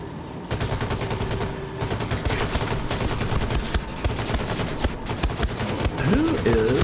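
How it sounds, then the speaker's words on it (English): Rapid enemy gunfire in the shooter game Wolfenstein II: The New Colossus, a loud, dense run of shots and bursts that hardly lets up, with a brief vocal sound near the end. "Who is shooting me?"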